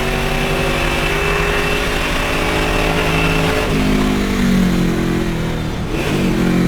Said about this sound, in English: I'm amazed at how much it likes to rev.